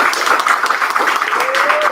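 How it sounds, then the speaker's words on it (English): An audience applauds at an evening graduation ceremony, a steady wash of clapping close by that fills the whole moment, with a thin whistle-like tone gliding across the end. "Let's give them one more round of applause"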